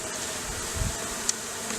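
Honey bees buzz inside a mason jar capped with number 8 hardware cloth, giving a steady, faint insect hum with a few brief louder flutters over a short stretch.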